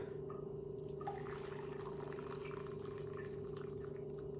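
Hot water is poured into a bowl while dyeing eggs, a faint soft trickle and a few drips over a steady background hum, no voices.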